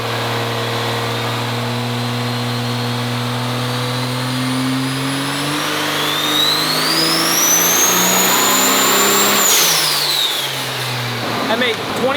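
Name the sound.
triple-turbo Quad Cab diesel truck engine revving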